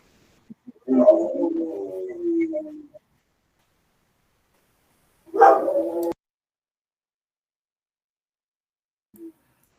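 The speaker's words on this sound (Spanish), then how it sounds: "Por suerte son perros." A neighbour's dog barks and howls in two separate bursts, one drawn out and the other short, followed by a faint brief yip, with silence in between.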